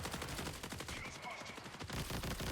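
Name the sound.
sniper gunfire in the video game Marathon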